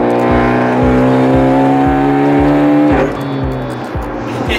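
A turbocharged Hyundai Genesis Coupe with a stuffed turbo on a dyno pull, the engine droning loud and close with a rising whistle as the turbo spools, then a sharp release and a lower, rougher idle-like tone.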